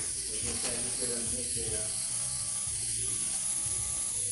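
An airbrush gun sprays paint while filling in a beard design, giving a continuous, even hiss with a faint mechanical buzz running beneath, steady for the whole stretch.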